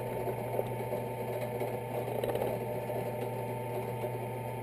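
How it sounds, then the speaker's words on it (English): A case trimmer cuts 5.56 brass down to 300 Blackout length, a steady close mechanical whir with a constant low motor hum and a dense buzzing texture throughout. "Next step is to put it into the trimmer."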